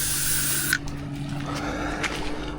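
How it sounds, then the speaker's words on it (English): Insect spray hisses from an aerosol can around a camp food container outdoors in a steady loud burst that cuts off abruptly, then fainter quiet hiss after. "we're gonna give them a little spray"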